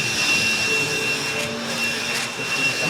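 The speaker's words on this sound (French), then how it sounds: "Je pense qu'il faut qu'on achète un vrai aspirateur balai." A stick vacuum cleaner runs in a steady, loud whirring drone with a high whine on top, continuous for the whole stretch with no talking.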